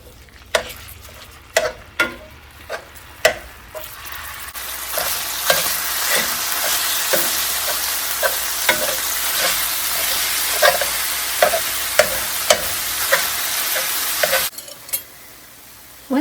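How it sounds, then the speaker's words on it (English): Ground beef sizzles and fries in a pan while a utensil scrapes and stirs it, the sharp taps and scrapes coming every second or so over a steady, loud hiss that swells after the first few seconds. "So I'm just going to brown up the ground beef."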